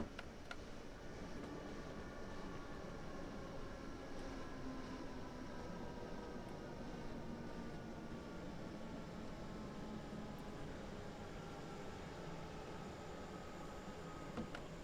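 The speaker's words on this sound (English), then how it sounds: "Start slowing this train down and getting ready to stop." An electric passenger train runs on the Hauptstrecke Rhein-Ruhr between Duisburg and Bochum in Train Sim World. It gives a steady, dense rumble with faint whining motor tones sliding slowly in pitch, unbroken and moderately quiet throughout.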